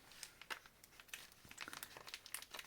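Close, faint crinkling and tearing of wrapping paper as a gift package is opened, in irregular bursts of rustles. No one talks.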